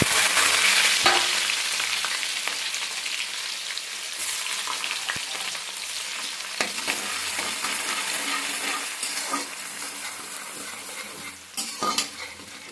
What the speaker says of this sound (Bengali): এইবারে পেঁয়াজ কুচিটা দিয়ে দিলাম।